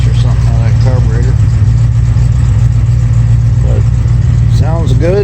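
A 1965 Ford Mustang engine with headers idles steadily and loudly through a carburetor, a slight miss causing light popping in its low, rumbling tone, while someone talks over it throughout.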